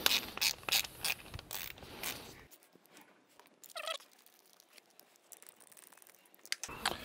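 A hand ratchet backs out a 10 mm bolt from a steering rack bracket on a BMW 328i/335i. Quick, close clicking comes first, then softer scattered metallic taps and a brief squeak.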